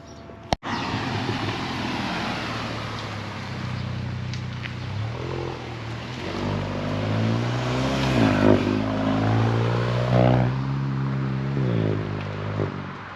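A 2022 Volkswagen MK8 GTI with a Racingline intake and turbo muffler delete accelerating on a drive, its engine droning and rising in pitch through revs, loud and continuous after a sharp click at the start.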